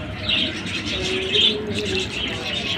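Soft pigeon coos repeat at a moderate distance, mixed with light chirping from other birds in the background.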